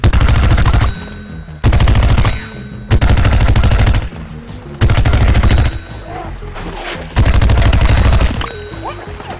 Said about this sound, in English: Here the ice pea shooter is using his rooted Gatling attack to thin out the zombie horde from a distance.